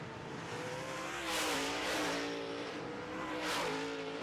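Modified race cars roar around an asphalt track, engines revving and rising as a couple of cars sweep past in close succession, fairly distant and loud, without voices.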